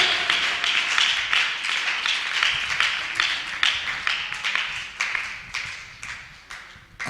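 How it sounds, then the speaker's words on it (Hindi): A congregation at a Bible class in Khanpur claps loudly and steadily, a dense run of sharp hand claps continuing for several seconds with no voices over it. "जोरदार ताली बजाकर हम परमेश्वर को धन्यवाद करें।"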